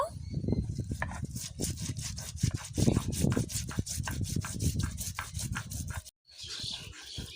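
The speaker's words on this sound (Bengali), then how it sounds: "সব মশলাগুলো শিলে নিয়ে নেব বাটা সুবিধার জন্য একটু জল নিয়ে নেব" Spices ground with a little water on a stone grinding slab (shil) for a rui fish recipe, making rapid, rhythmic rubbing strokes close up, a brief pause near the end, with some voice in places.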